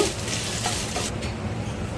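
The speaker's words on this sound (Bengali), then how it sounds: "আদাটা ভালো করে একটু ভেজে নেব" Ginger paste sizzles and spits in hot oil in a pan for a lentil dal, a dense continuous frying hiss with faint stirring, close and unaccompanied by talk.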